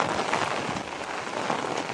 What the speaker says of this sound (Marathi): आता आला तर असं वाटतं हा पाऊस आला कुठून एवढा, जात का नाही